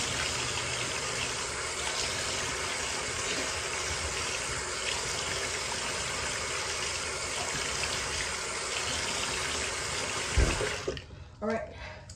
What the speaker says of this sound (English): So, I washed my face. I finished washing my face.